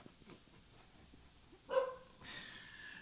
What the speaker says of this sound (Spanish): ahora mi perrito se puso a ladrar, no sé por qué